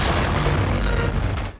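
A massive explosion of the battleship USS Arizona as its gunpowder magazine is hit by a bomb in the Pearl Harbor attack film scene: a loud, dense roaring boom sustained with rumbling debris before cutting off.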